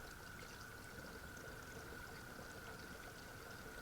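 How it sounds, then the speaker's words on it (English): Fuel pours quietly and steadily from a spill-proof can into a chainsaw tank, making a continuous soft trickling stream with no breaks and no talking. "you push down, fills the saw up, and then when you lift up, no fuel spilling"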